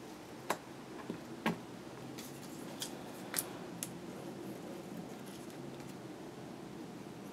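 Scissors trim paper shapes in a quiet room, a handful of sharp, separate snips spaced a second or two apart over a faint steady background hiss.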